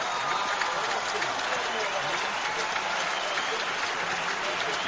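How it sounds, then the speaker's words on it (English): Spectators at the 2005 Australian Open semifinal between Safin and Federer break into sustained, even applause after a service break, a broad wash of clapping filling the stadium. "The crowd are pleased."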